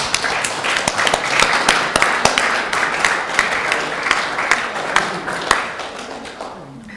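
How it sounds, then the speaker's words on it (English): A standing audience claps at a community board meeting, distinct individual claps audible within a moderate, fairly sparse round of applause that gradually tapers off. "So let's stand and just give a big clap."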